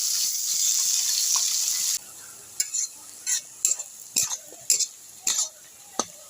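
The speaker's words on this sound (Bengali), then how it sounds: "পেঁয়াজটা আমি লাল লাল করে ভেজে নেব।" Onions frying in a pan until reddish-brown for a Bengali-style chicken kosha: a bright steady sizzle for two seconds, then a series of short scraping stir strokes over a quieter hiss.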